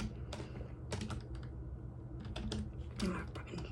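A password is typed on a computer keyboard in short bursts of quick, close key clicks with pauses between, over a low room hum.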